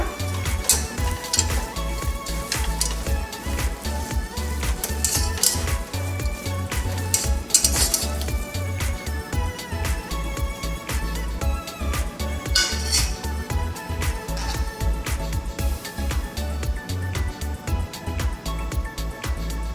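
Powdered okara, a soy pulp, stir-fries in a pan with a constant close sizzle and repeated scraping and clinking of a utensil against the pan, and no talking.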